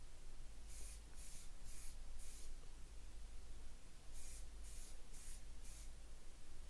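An aerosol can sprays NATO green olive drab paint onto a 1939 Tootsietoy army supply truck in two sets of four short, even hissing bursts, separated by a quiet gap over low background hum.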